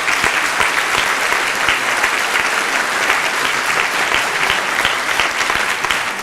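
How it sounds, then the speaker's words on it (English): Loud, sustained applause from a large crowd at a high school graduation ceremony, clapping for the band in a dense, even roar without talk. "let's give a big round of applause to the band one more time and say thanks to them."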